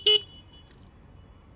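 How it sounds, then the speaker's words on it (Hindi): A single short, sharp honk of a Suzuki Gixxer SF250 motorcycle horn, loud and close, followed by quiet. "तो हॉर्न जो है कुछ इस तरह का साउंड करता है"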